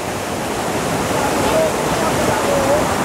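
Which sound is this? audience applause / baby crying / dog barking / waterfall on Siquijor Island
waterfall on Siquijor Island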